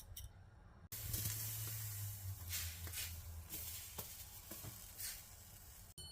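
Bajra (millet flour) roti cooking on a griddle over low heat, a steady soft sizzle and hiss running throughout with occasional light scrapes and taps as it is turned.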